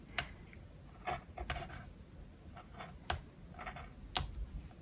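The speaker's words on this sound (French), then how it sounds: "on va venir ici découper de chaque côté." Paper is cut into slits for a scrapbooking project, with a handful of crisp, close snips and ticks spaced irregularly through a quiet room.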